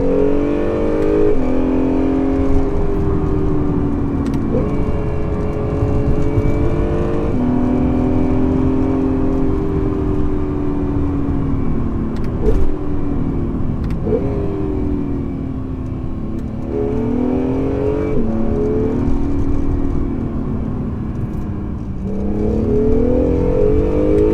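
Honda NSX accelerating hard from inside the cabin, engine revs climbing repeatedly through a series of gear changes, each shift marked by a brief dip before the loud, whirring pull builds again.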